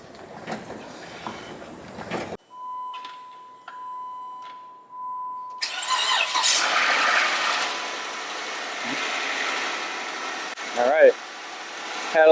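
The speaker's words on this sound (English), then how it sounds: "so we're going to go ahead and try starting it up" A wrecked Jeep Wrangler that has sat a long time, with its oil drained down, is cold started: a steady electronic tone, then the engine catches and settles into a loud, rough idle with some rattle, with voices briefly nearby.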